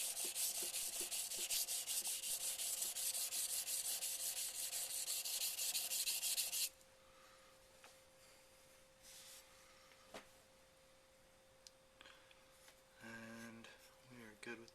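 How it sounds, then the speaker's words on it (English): A Takeda knife is ground on a sharpening stone, a steady, loud rasping rub for several seconds that then stops abruptly. Quieter scrapes and faint handling noises follow. "Another quick grind of the hard metal on this side."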